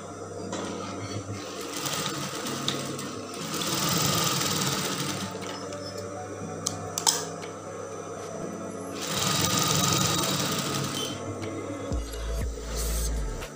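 A sewing machine runs in long continuous bursts while stitching the side seam of a half-circle skirt, with a steady motorized whir that swells, briefly pauses, then resumes, close and fairly loud with no talking.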